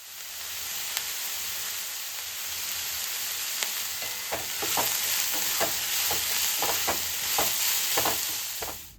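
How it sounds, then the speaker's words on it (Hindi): Organic sem flat bean pods fry in a pan for lunch, giving a continuous close hiss and sizzle broken by scattered light crackles and occasional stirring scrapes, with no voices. "तो आज लंच में उसी को मैं फ्राई कर रही हूँ"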